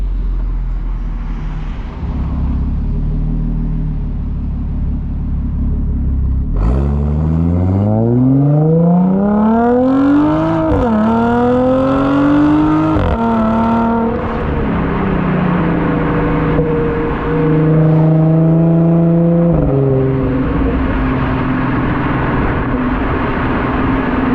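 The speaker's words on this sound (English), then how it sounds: "It's just that I didn't expect it to be as loud as it is. This exhaust is really loud." An Audi S4 engine revs up and down hard through a loud, raspy AWE Tuning Touring aftermarket exhaust, rising pitch sweeps repeating close by, with no voices.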